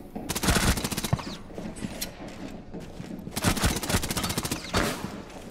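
Gunfire in the video game Rainbow Six Siege: loud, rapid automatic bursts in two main volleys with short pauses and scattered single shots between, dense and close.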